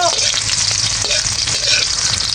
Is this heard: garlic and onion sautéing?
yes